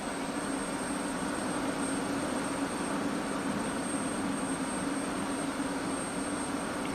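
A UH-60L Black Hawk engine starter spinning up in DCS World, a steady whining turbine hum with a constant high tone over broadband rush, sustained and even throughout.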